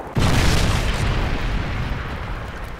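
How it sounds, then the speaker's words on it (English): A Predator missile strike in Modern Warfare 3 multiplayer, one sudden heavy explosion with a deep rumbling boom that rolls on and slowly fades. "Friendly Predator missile inbound."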